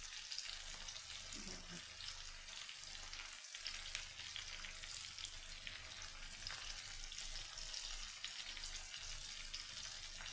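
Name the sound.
potatoes frying and crackling in a pan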